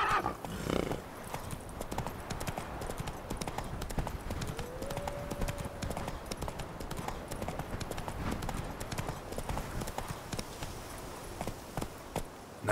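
In the game Witcher 3, a horse gallops with rapid, rhythmic hoof clip-clops, and a whinny sounds partway through, while a voice speaks briefly over it.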